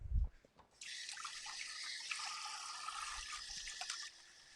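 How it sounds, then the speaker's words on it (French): Tap water runs steadily into a sink for about three seconds while hands are washed, a broadband hiss with small splashes, fairly near and moderately quiet, then it cuts off. "J'en profite pour me relaver les mains parce que justement j'ai touché à mon œuf"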